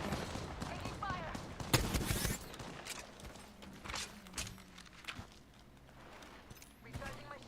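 Gunfire in the battle royale shooter Apex Legends, several sharp shots and short bursts scattered over the stretch amid general game noise, with a voice speaking at points.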